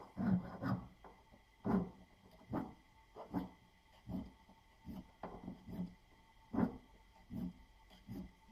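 Metal file rasping along the edges of a handmade ring to break its sharp angle, a series of short scraping strokes in an uneven rhythm, close and fairly quiet.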